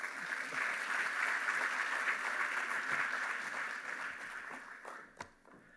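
Sustained audience applause for panelists at the Youth Energy Summit 2026 opening ceremony, a dense steady wash of many hands that holds for several seconds, then thins and fades out near the end.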